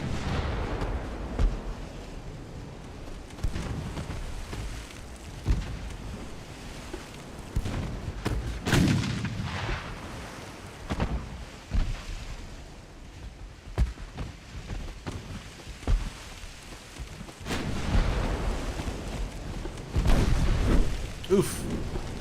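Heavy naval guns in a dreadnought-era sea battle from Ultimate Admiral: Dreadnoughts boom and thud at irregular intervals, some heavier blasts standing out over a rumbling, rain-like wash of background noise.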